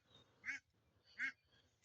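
A duck gives two clear, nasal quacks spaced well apart, faint and somewhat distant against quiet background noise.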